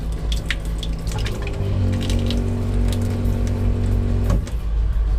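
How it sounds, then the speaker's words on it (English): Water runs steadily from the sink tap of a Mercedes Sprinter T1N campervan, fed by a pressure pump, with a continuous close rush and a low humming drone underneath throughout. "The sink is on this switch, so turn the switch on, that pressurizes the system, and then it's just on demand."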